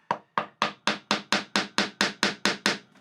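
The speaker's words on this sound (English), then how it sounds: "I want to do a couple little taps like that" A wood chisel tapped with a mallet to cut a stopped groove in wood, heard as about eleven sharp, evenly spaced knocks, each with a short decay. Close and fairly loud, with no voice over them.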